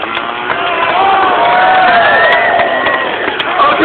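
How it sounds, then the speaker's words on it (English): Street-performance audience in Covent Garden watching a chainsaw juggler, a loud burst of cheering and whooping voices that swells and holds for a few seconds. "Get ready to clap, people."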